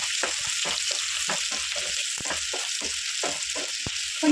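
Thinly sliced onion fries in a pan, a steady close bright sizzle running throughout with soft rhythmic stirring scrapes beneath it and no voices.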